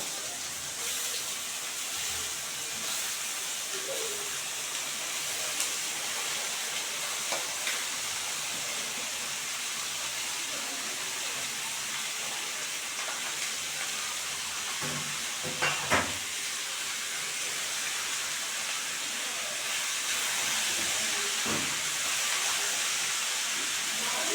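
Bottle gourd pieces go into a hot pan with shrimp, giving a steady, fairly quiet sizzling hiss that runs throughout, with a few faint clinks and knocks.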